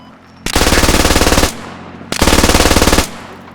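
Automatic gunfire from a birdie gun on the Fallujah map in the game Squad: two loud, sustained bursts of rapid, evenly spaced shots, each about a second long, separated by a short pause with no talking.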